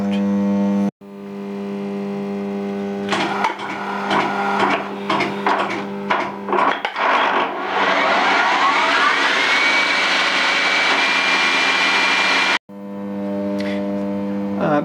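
A metalworking lathe with an Izumi PLC hums and whirs as its gearbox shifts from 50 to 2,500 rpm, clunking through speed changes, then cuts out and its motor restarts with a star-delta start, rising to a loud steady drone.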